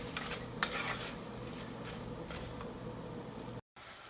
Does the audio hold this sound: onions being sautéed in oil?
yes